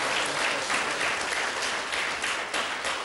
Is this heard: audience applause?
yes